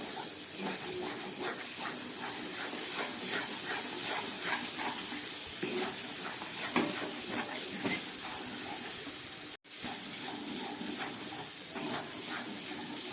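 Rita and tangra fish sizzle in oil with a spice paste cooking down in a pan, a steady, close hiss that carries on throughout with one brief dropout.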